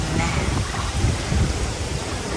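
Steady wind rushing and buffeting the microphone on an overcast, windy day, with low rumbling gusts throughout and no clear voices.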